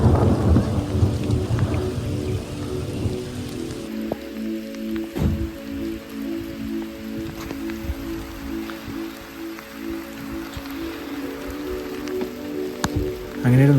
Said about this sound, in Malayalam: അധികം വൈകാതെ തന്നെ മഴയും പെയ്തു